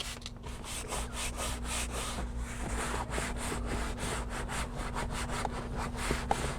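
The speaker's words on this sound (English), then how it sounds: "Just spray on the brush, scrub it out." A brush scrubs leather with cleaner, a close, steady rapid rubbing with rhythmic strokes over a low background hum.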